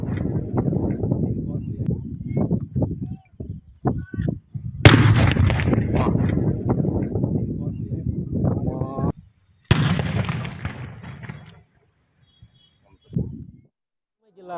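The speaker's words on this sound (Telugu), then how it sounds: "ఆ బాంబులను స్వాధీనం చేసుకుని నిర్మానుష్య ప్రాంతంలోకి తీసుకుని వెళ్లి వాటిని పేలుస్తున్న దృశ్యాలు" Seized terrorist bombs detonated by police in a deserted area near Rayachoti, heard as two sudden loud blasts, each followed by a long rumbling roar that fades, over a steady background of voices and a news narrator before the second blast.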